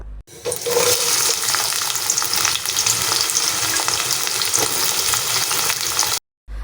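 Onions fry in oil with bay leaves, cinnamon, cardamom and cloves for a chicken liver and mung bean stew, a loud, dense, close sizzle with occasional stirring scrapes, cutting off suddenly just before the end.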